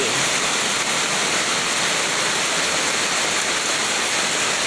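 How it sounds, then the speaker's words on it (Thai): Steady heavy rain pours down outdoors on a Thai bamboo-growing plot, a dense unbroken hiss that holds at one even level throughout, with no voices. "ตอนนี้ มีฝนตกมา แล้วก็เลยมาถ่ายวิดีโอไว้ ให้ดู"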